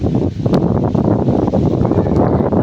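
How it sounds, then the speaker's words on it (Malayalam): Strong wind sweeps through leaves and coconut palms around a home in Alappuzha in the evening, a steady close rushing roar with buffeting on the microphone and no voices. "നല്ല കാറ്റുണ്ട് ഇവിടെ"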